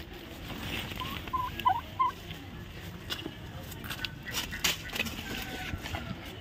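A turkey gobbles a couple of times in quick bursts, fairly faint and distant, over soft outdoor background noise.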